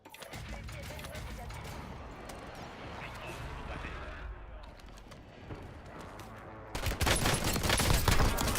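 Gunfire rattles through a war video game as a player uses a shotgun. Dense, continuous blasts and crashes fill the scene, growing louder and harsher toward the end.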